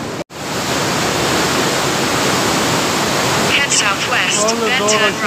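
Water rushes forcefully through river headworks in a loud, continuous roar that fills the whole clip, with a voice briefly talking over it near the end.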